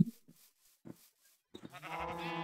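Sheep in the game Minecraft bleat close by, a few short soft calls followed by a longer, louder bleat.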